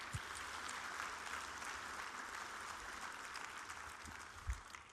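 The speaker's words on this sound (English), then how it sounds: "So if everyone would give me a big applause for the Noria staff," An audience at a conference opening general session claps steadily for the event staff, a soft, even wash of applause that stays continuous for several seconds and sounds somewhat distant.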